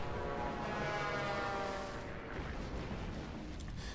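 Bombing-run explosions rumble in the video game Axis and Allies during the Battle of Iwo Jima. They form a dense, continuous barrage, fairly quiet and steady, with no distinct single blasts.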